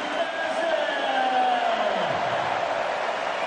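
A large home crowd at an Arsenal versus Lyon football match cheering in a broad, sustained roar that fills the stadium, heard over a steady background wash with no spoken words.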